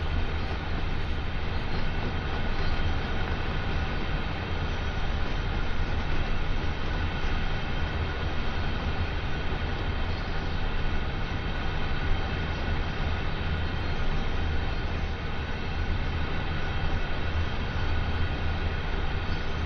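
A huge freight train grinds along the Sand Patch Grade in Train Sim World 2, a constant heavy rumble and droning engine hum, loud and unbroken for the whole stretch, with no speech.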